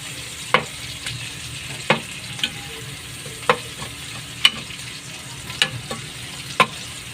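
Onions frying in olive oil for pinakbet make a soft, low sizzle, broken by sharp spoon clicks and scrapes at irregular intervals of a second or so.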